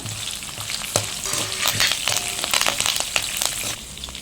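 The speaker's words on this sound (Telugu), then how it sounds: "ఇందులోనే ఎండుమిర్చి కరివేపాకును కూడా వేసేసుకుని మొత్తం ఒకసారి ఫ్రై చేసుకుందాము" Cumin seeds, dried red chillies and curry leaves crackle and sizzle loudly in a hot pan, with sharp pops and scraping stirs close by.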